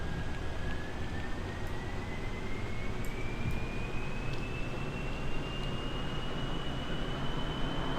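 A jet-powered car in Kerbal Space Program roars at full throttle, a dense steady jet rush with a rising whine threading through it, continuous and loud without pause.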